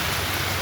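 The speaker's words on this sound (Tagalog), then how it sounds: "Medyo grabe ang ulan pa rin." Heavy, steady rain pours down without a break during a street-market tiangge, a dense, loud wash of drops hitting surfaces close by, with no voices.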